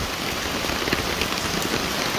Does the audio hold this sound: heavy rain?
yes